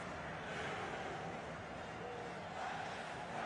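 Football crowd at a 2022 World Cup match between Argentina and Saudi Arabia, on their feet applauding: a steady, dense roar of clapping and cheering that fills the whole stretch without a break.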